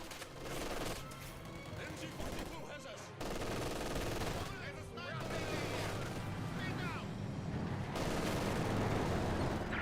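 MG42 machine gun rattles in Company of Heroes 2 battle, sustained bursts of rapid automatic fire mixed with other gunshots and booms, under a commentator's continuous talk.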